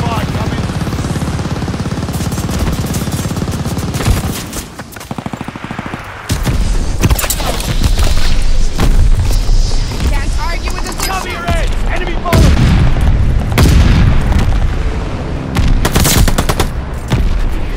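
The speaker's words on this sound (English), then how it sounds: "Friendly mortar fire coming." Call of Duty Vanguard battlefield with dense, loud bursts of gunfire and booming mortar explosions, a brief lull around four seconds, then sustained heavy fire and blasts with a voice calling out over the din.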